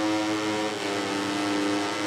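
Steady high-revving motorcycle engine in the racing game MotoGP 20, a loud continuous buzzing whine holding at high pitch with no other sounds.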